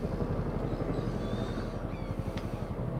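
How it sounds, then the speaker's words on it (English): A helicopter flies over a ship in the Man of Medan video game, producing a steady low rotor thump with a continuous droning rumble, moderately loud and sustained throughout. "helicopter."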